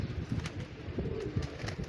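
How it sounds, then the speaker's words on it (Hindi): A pigeon settles into a loft, with soft flapping and fluttering bursts over steady background noise and no voices. "तो ये उतर आया कबूतर जरा फड़िया सी"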